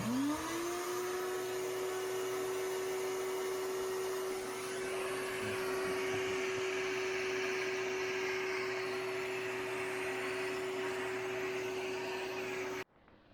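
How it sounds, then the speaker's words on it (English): A vacuum cleaner whirs up to a steady, loud drone while cleaning a semi truck, the motor holding one pitch for about twelve seconds before cutting off abruptly. "this is by far the worst vacuum I've ever seen"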